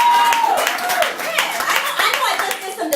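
Open mic night audience clapping after a spoken-word piece, a brisk burst of close hand claps with a few voices and light laughter mixed in.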